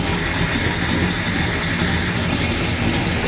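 A big-block Chevelle V8 idles through a two-chamber Flowmaster exhaust, a steady, loud, deep rumble that runs without a break and with no voices over it.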